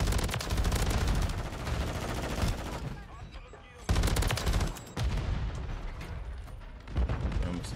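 Shotgun fire in Call of Duty Modern Warfare III, loud dense blasts in bursts with brief gaps, heavy game action throughout and voices underneath.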